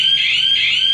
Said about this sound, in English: we'll hear that alarm bell one last time